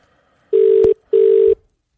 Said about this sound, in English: Sometimes we don't get a dial tone either